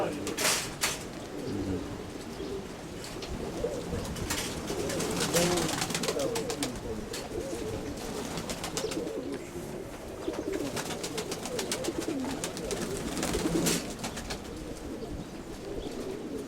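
A pigeon coos in soft, low, repeated phrases close by, with occasional wing flaps and clatter, while people talk intermittently in the background.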